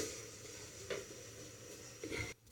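Semolina roasting in oil in a pan gives a soft, steady sizzle, broken by a few louder scrapes of stirring against the pan, close and alone without talk.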